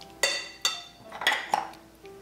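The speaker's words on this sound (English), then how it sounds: "So mix it well." Chicken pieces coated with food colour are mixed in a bowl for chicken fajitas, giving five or so sharp, close clinks of a utensil against the bowl in an uneven rhythm.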